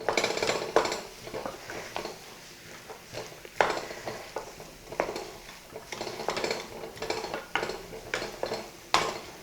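Potato masala for rava masala dosa is stirred in a pan, a spoon scraping and clinking against the metal in an uneven rhythm of close, moderately loud strokes with short pauses between them.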